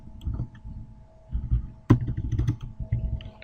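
Keys clatter on a computer keyboard while PHP code is typed, with soft rapid taps in bursts and one sharper keystroke midway, close and alone.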